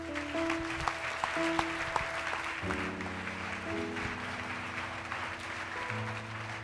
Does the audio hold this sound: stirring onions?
no